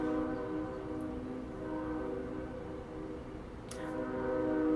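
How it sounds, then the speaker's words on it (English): A loud train passing by, a sustained droning rumble with a tonal, horn-like hum that dips briefly and then swells louder toward the end as it seems to draw closer. "that train, I wish it would just go or finish passing by"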